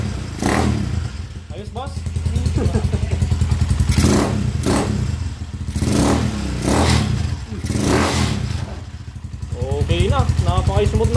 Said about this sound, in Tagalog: Napaka-smooth ng makina niyo.